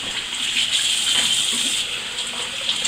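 Poultry is rinsed under a running kitchen tap, a steady close gush of water with a bright hissing splash and small shifts in tone as the stream breaks over the meat, with no voices.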